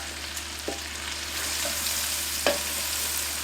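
Twelve ounces of sliced mushrooms frying in a pan for chicken Marsala, a soft continuous sizzle with a few light clicks of the pan, close and fairly quiet, with no voices.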